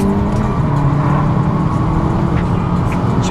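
A Volkswagen GTI's engine runs steadily and loudly up close, a continuous throbbing drone with no talking over it.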